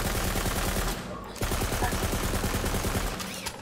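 Rapid automatic gunfire from a weapon in Borderlands 3, a dense burst of shots that breaks off briefly and then resumes as a steady rattling stream, loud and up front.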